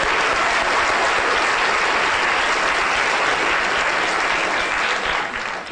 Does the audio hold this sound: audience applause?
yes